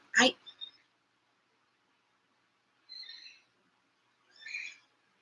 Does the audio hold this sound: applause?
no